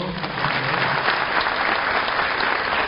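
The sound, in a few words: audience applause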